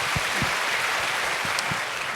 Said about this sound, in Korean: 우리 사모님 큰 박수로 한번 격려하면 좋겠습니다